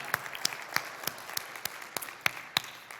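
An audience claps at a live talk event, scattered sharp hand claps standing out over a soft, steady patter of applause, fairly close and without any voices.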